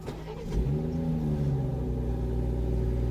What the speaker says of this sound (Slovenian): No pa da vidimo, kaj novega mi zna ponuditi bencinski motor.